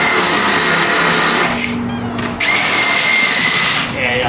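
A power tool whirs loudly and close while spinning a stud on a Jeep XJ during a lift kit install; the high whine runs steadily, dips briefly partway through, then resumes, with a voice talking over it.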